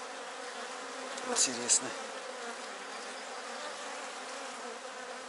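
Honeybees buzz steadily inside a hive while a queen cell is being opened, a dense, even drone that carries through the whole clip, with two brief sharp clicks near the middle and one short spoken word.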